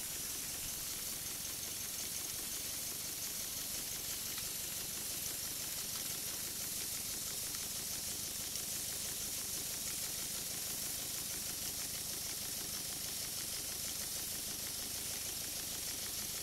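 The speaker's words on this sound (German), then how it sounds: "Es wird umgesteuert, Dampf wird gegeben, die Maschine läuft gleich langsam wieder selbstständig in die andere Richtung an." A restored steam engine on an oak-built steamboat runs steadily after being reversed, giving a continuous loud hiss of steam with an even, smooth mechanical churn underneath and no knocking.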